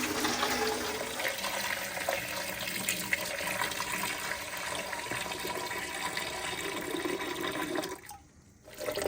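Hot tap water runs steadily into a pressure canner for home-canning baked beans, a continuous close, broadband rushing pour that cuts off abruptly near the end.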